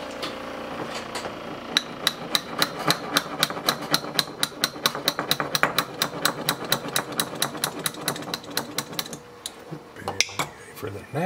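Rapid metallic tapping with a small hammer while building a small steam engine, many small sharp strikes in quick succession, close by, with light mechanical clatter between hits and a few louder knocks near the end.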